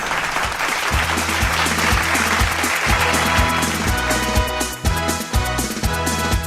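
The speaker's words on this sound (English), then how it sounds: "Let's encourage them with a big round of applause" An audience applauds kindergarten dancers at an Independence Day school celebration, steady clapping heard over a loud rhythmic music track with a repeating bass beat throughout.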